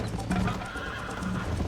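A horse gallops at full speed during a race in Red Dead Redemption, a steady, close clip-clop of hooves with a brief whinny, loud and busy with no talking over it.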